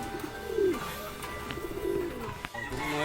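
Pigeons coo at home, two soft throaty coos rising and falling close by, with faint background noise and brief clicks between them.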